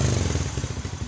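Kawasaki KSR110 motorcycle engine running with weak, low revs while its wiring fault is being traced, a close, steady putter of quick low pulses throwing off a light clatter.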